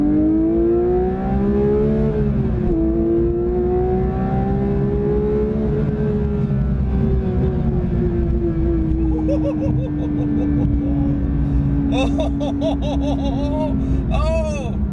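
A manual Porsche GT3 engine revs hard in second gear, a loud sustained climbing note that falls and rises again through the run, with laughter and giggling breaking in near the end.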